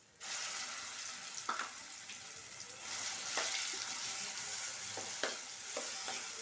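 Ground onion paste cooks in hot oil in a kadai with curry leaves, a steady close sizzle broken by a few sharper pops and stirring scrapes.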